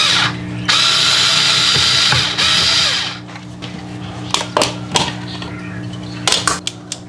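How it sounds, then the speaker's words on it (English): A cordless power tool whirs loudly in two close bursts removing an outlet cover plate, then stops, followed by scattered clicks and small handling noises. "I'm gonna use one of my easy go-to power tool right here."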